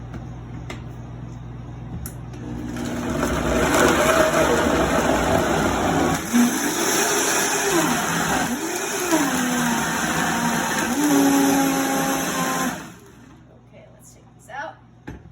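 A kitchen blender purees clementine marmalade sweetened with honey, starting after a short pause and running loud and steady for about ten seconds, its motor pitch rising and dipping, then cutting off abruptly.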